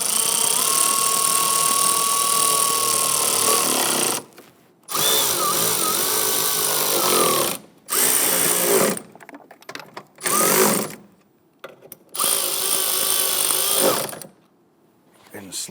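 A power tool tightens bolts during fuel injector replacement on a 2011-2021 Jeep Grand Cherokee 3.6L V6, whirring loudly in repeated bursts of a few seconds, each cut by short pauses, close to the microphone.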